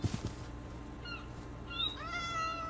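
A cat meows in the Minecraft video game, a few short rising high-pitched mews over a quiet game background with a couple of soft thumps at the start.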